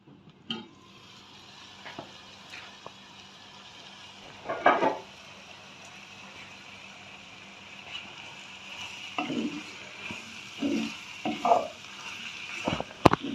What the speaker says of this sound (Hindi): अब यहाँ पर मैं इसको ना 3 मिनट ढककर पका लूँगी ताकि हमारे टमाटर और प्याज जो है वो सॉफ्ट हो जाए